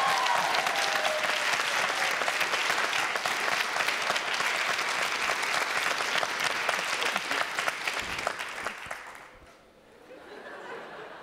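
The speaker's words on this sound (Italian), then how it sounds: "Adesso facciamo una prova d'applauso, come se lo spettacolo fosse il più bello che avete visto fino ad oggi." A theater audience at a stand-up comedy show claps loudly in a sustained burst during an applause test, with scattered chatter and laughter, before the clapping fades out near the end.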